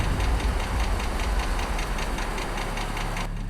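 A car engine idles steadily and close by, a continuous low rumble with a faint knocking pulse throughout, during a police traffic stop.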